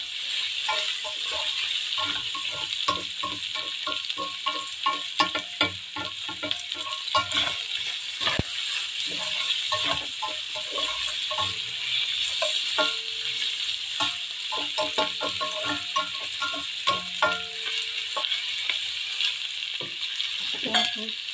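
Liver fries in a wok with a continuous crackling sizzle and dense splattering pops, joined by frequent rapid stirring and scraping, steady throughout.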